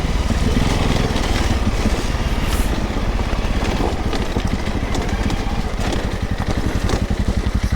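A Honda CRF300 Rally motorcycle trail riding, its engine a close, steady, loud thumping drone with rhythmic pulsing throughout and no talk.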